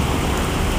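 Heavy rain pours during an electrical storm, a loud dense continuous roar close at hand, with no distinct thunder clap standing out.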